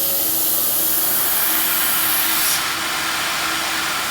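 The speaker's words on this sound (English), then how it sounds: "The robot goes in," An automation robot lifts a pallet from an Aroma-3 herb grinder out of its cage with a continuous loud mechanical whir and hiss that drops slightly in level partway through, with no talking.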